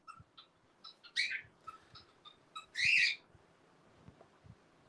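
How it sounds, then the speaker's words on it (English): A pet bird chirps and squawks indoors in short scattered calls, with two louder, longer squawks standing out over a low background hum. "Bird."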